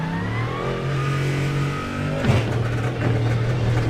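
An LMP3 race car in the iRacing sim at Daytona revs hard through the gears, a close, loud engine note climbing, dropping sharply at a shift, then climbing again over about four seconds.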